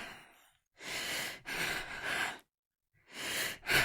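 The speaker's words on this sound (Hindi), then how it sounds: "लेकिन दूसरी तरफ सिर्फ सांसों की आवाज आती है।" In a horror story, a telephone receiver carries slow, heavy breathing: four or five drawn-out breaths, close and raspy, with short silences between them.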